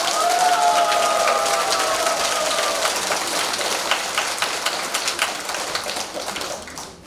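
Applause from a lecture audience fills the hall, a dense steady patter of many hands that holds loud and then thins slightly toward the end, with a brief sustained tone at the start.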